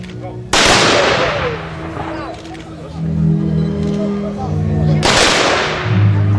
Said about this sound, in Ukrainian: під постріл з мисливської зброї